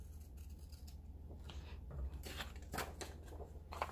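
Soft snipping and rustling of scissors cutting excess paper from a planner page, a few quick close cuts over a low steady hum.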